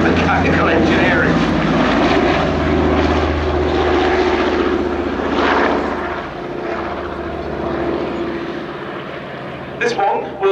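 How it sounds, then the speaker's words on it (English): Consolidated PBY Catalina amphibious flying boat, a Canadian Vickers-built Canso, passes at an airshow with landing gear down, its radial propeller engines throbbing loudly and steadily before easing slightly, with a commentator talking over it. "Now, Catalina, with its landing gear down this time, demonstrating its amphibious qualities"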